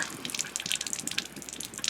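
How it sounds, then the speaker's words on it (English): Water runs from the low point drain of an R-Pod RV's hot water heater in a steady close splattering gush with small drips, with no other sound. "This one that's going right now is actually the low point drain that actually will drain the hot water heater for us"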